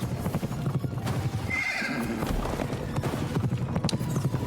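A horse ride in the action video game Pumpkin Jack brings rhythmic clip-clop hoofbeats with a horse neighing near the middle, the hooves carrying on steadily before and after the whinny.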